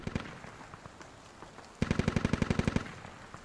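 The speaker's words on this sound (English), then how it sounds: "Watch that return fire." Return gunfire in the military shooter game Squad: scattered distant shots, then a loud, rapid automatic burst of about a dozen evenly spaced rounds lasting roughly a second before fading back to sporadic fire.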